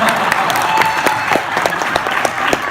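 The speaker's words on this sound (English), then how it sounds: "You can clap." Audience applause at a business leaders' Q&A summit, a steady patter of many hands clapping throughout, fairly close and loud, with a faint voice briefly audible underneath.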